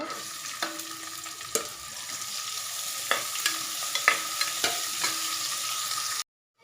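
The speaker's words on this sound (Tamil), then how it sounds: "அடுத்து வெங்காயம் சேர்த்துக்கலாங்க" Onions with whole spices fry in hot oil for chicken biryani, a steady close sizzle broken by occasional scrape-and-stir clatters, ending abruptly in silence, with no talk.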